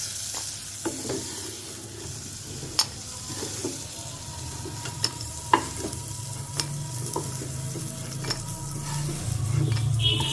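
Crab pieces fry in a pan, producing a continuous close sizzle with scattered sharp clicks and scrapes of a utensil against the pan, no voices present.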